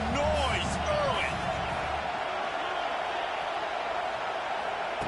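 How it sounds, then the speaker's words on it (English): Dense, steady roar of a large football stadium crowd, loud and continuous throughout, with a few brief whoops and shouts rising out of the wash in the first moments. "This crowd bringing the energy and noise early."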